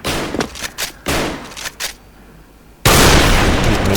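Video game TAC-50 sniper rifle gunfire: loud bursts of shots crack in quick succession, then a pause and a heavy sustained blast of firing, close and harsh.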